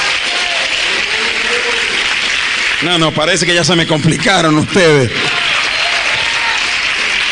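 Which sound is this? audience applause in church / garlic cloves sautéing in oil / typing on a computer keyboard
audience applause in church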